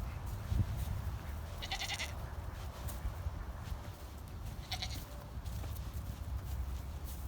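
Two short goat bleats sound a few seconds apart over constant outdoor background noise and rustling.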